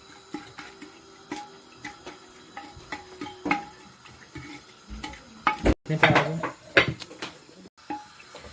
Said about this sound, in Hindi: देखें थोड़ा सा हम ऑयल में मसालों को भून लेंगे।